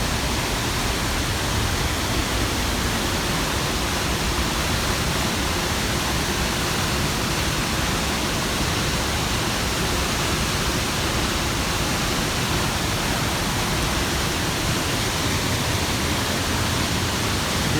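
Heavy waterfall with a large volume of water pouring down, a dense constant roar filling the whole stretch with no pauses and no voices.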